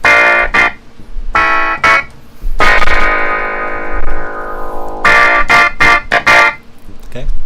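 A keyboard plays a rhythmic chord pattern, with short repeated chord hits around one long held chord, loud and close over a busy, noisy backing.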